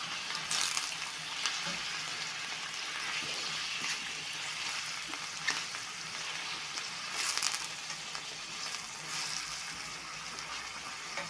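Seafood fries in a pan for a creamy Italian pasta and gets stirred. A low, steady sizzle carries occasional louder scrapes and swishes from the stirring.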